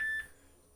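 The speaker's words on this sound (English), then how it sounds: "And that's my phone telling me I'm broadcasting." Phone notification beep, a single short pure high tone lasting about a fifth of a second, clear and fairly close, fading into quiet room hum.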